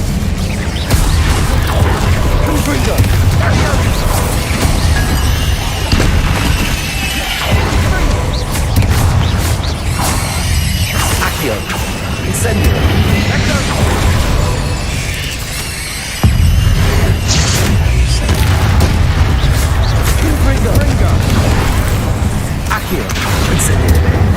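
Spell-cast explosions in Hogwarts Legacy burst repeatedly as booming blasts and pops over a busy, dense game soundscape, with a voice calling out during the action.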